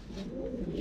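Pigeons coo softly inside a breeding loft, among them a grey bird, giving a continuous low, murmuring coo nearby with no talking.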